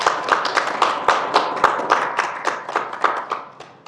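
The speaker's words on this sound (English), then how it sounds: "Let's get a round of applause for all of our panelists." Sparse applause from a small audience for panelists at a sustainability and style event, individual claps standing out as distinct sharp slaps that gradually thin and fade.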